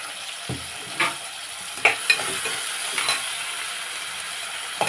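Salt and turmeric being stirred into a frying mixture in a pan, with a faint steady sizzle and a few distinct scraping strokes of the spoon at irregular intervals.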